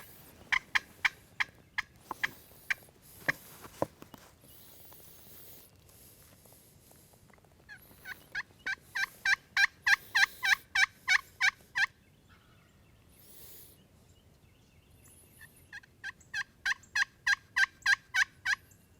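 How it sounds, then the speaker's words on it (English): Wild turkeys gobbling in repeated bursts of rapid rattling calls, fairly close, with a few sharp knocks early on and quiet gaps between volleys. "they have some birds gobble right above them"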